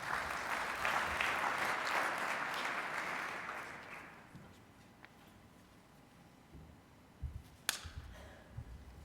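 A conference audience at an expo awards presentation gives a round of applause that swells, holds for about four seconds, then fades into quiet room noise broken by a few scattered knocks.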